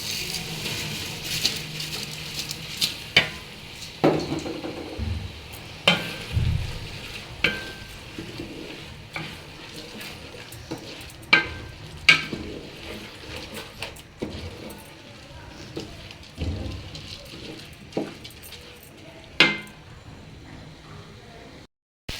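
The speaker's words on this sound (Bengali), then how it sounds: "চাল ডালগুলো মোটামুটি ভাজা হয়ে গেছে" Rice and lentils for vegetable khichuri fry in a pan, a soft steady sizzle broken by repeated scraping stirs of a spoon, each stroke a short sharp rasp recurring every second or two.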